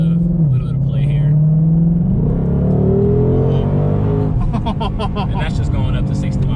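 A 2020 Ford Shelby GT500 Mustang accelerates hard, its engine note climbing steadily and loudly from inside the cabin while people talk over it.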